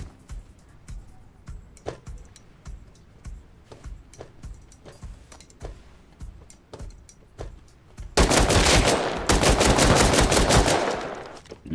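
Automatic gunfire in the survival video game Rust: scattered single shots at first, then a dense, loud sustained burst of rapid fire in the last few seconds, with no talk.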